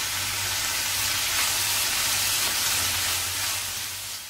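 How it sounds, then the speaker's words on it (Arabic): Kofta and carrots frying with browned onion in a pan, a steady close sizzle and hiss with no talk, holding even and fading slightly at the end. "من بعد ما تشحرات البصله رميت الكفته والجزر بقا وحده"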